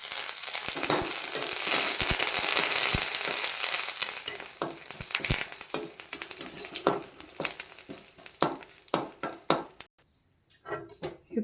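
Mustard seeds, cumin and dried red chillies tempering in hot oil for peanut chutney, a dense crackling sizzle with sharp popping bursts that thins into scattered pops near the end, with no voices.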